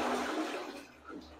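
A toilet flushes in a student dorm restroom in Romania, a loud rushing gush of water that tapers off, heard close up and alone.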